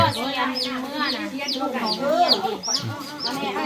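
Chickens cluck and squawk nearby in a rural Thai setting, a busy run of rising and falling calls with a rooster-like note, fairly loud and close, with people talking in the background.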